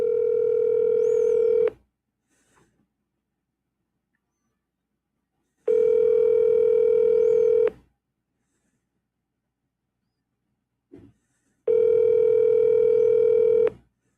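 A steady phone dialing tone sounds in three separate long bursts of about two seconds each, loud and close, with silent gaps between them and a faint click in one gap, no talking.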